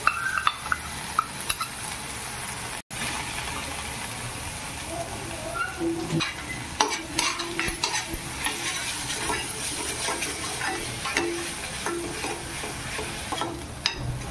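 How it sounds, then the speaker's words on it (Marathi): Soaked chillies with coriander and cumin powder fry in a pan for a mixed vegetable bhaji, giving a steady close sizzle and hiss with scraping stirs and the odd clink of a utensil, with no talk. "आता आपण भिजवलेली मिरची आणि धना पावडर, जिरा पावडर हे पण टाकूया आणि त्याला फ्राय करू."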